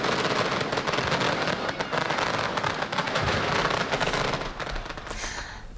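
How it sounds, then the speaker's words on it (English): Fireworks and firecrackers burst at a Chinatown celebration, a dense crackling barrage of rapid pops and bangs that continues without pause, loud and close, thinning slightly toward the end. "After the noise of the firecrackers, all eyes were turned to the sky for a crowd favorite, fireworks."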